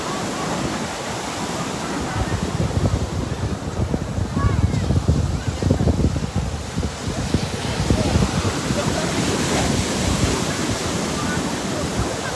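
Ocean waves and gusting wind on a California beach form a steady, loud, roaring wash that swells and surges through the whole stretch, with no clear speech standing out.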